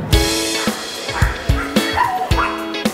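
Dog at a dog show barking repeatedly at close range, a series of sharp yips and whimpering barks in an irregular rhythm, loud and dominant.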